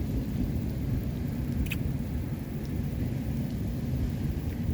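Thunder rolls under steady heavy rain at a stormy beach, a constant dense rush of falling water with a low rumble throughout and no voices.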